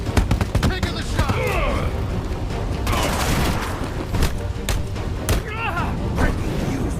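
Gunfire in Batman Arkham Shadow, a burst of sharp shots at the start followed by a chaotic fight mix of hits and thuds, with voices speaking over the action.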